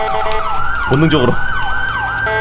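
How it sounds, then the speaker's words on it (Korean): Police car siren in GTA V turned to maximum, a loud close wail sweeping up and down in repeated cycles, with a brief burst of horn-like blaring in the middle and a voice talking over it. "이 차는 진짜 사이렌 소리를 진짜 완전 맥시멈으로 켜놔야겠다"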